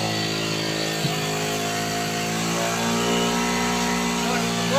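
A Honda CB 125 motorcycle engine runs close by as it is revved during a charging-current check, producing a steady harmonic drone that climbs slightly in pitch and loudness toward the end, with no talk over it.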